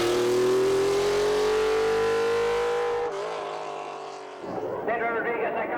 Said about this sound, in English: The Boxer 3-litre flat 12 engine developing some 500 and odd horsepower, 12-cylinder distributor, Lucas fuel injection.